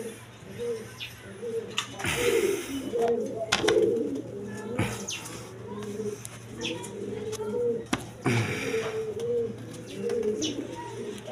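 A pair of black Beauty pigeons coo close by in repeated low, throaty phrases, with short rustles and flutters between calls.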